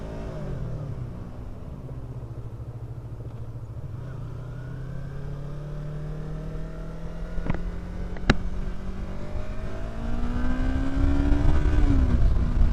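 A motorcycle engine hums steadily while riding with the visor closed, its pitch climbing slowly as the bike accelerates, mixed with constant wind rush and a couple of sharp clicks, loud and close.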